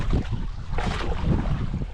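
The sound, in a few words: wind outdoors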